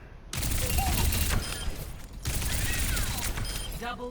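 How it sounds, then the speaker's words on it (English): Tracer's weapon in Overwatch 2 fires in two rapid automatic bursts, dense crackling gunfire with short pauses, game effects chirping at the end. "Okay, this is her weapon."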